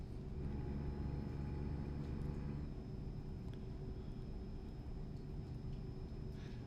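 Steady low engine rumble of a truck driving in American Truck Simulator on a Louisiana route, a continuous loud drone with a constant hum and no talk.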